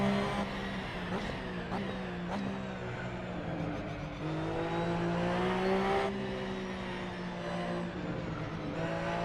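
A Porsche 992 GT3 R race car circles the Long Beach street circuit, its engine note droning steadily and rising and falling through gear changes, with brief sharp shifts punctuating a continuous loud onboard roar.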